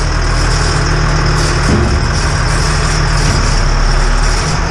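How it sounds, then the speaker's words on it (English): Hydraulic jib sliding forward on a GMC Topkick hooklift truck, a steady loud engine drone with a shift in tone partway through as the hydraulics work, no talking. "That jib slides forward hydraulically, hydraulic cylinder"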